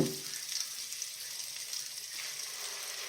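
Crushed ginger fries in a pan with a soft, steady sizzle and faint crackle, heard close but quiet, with no speech.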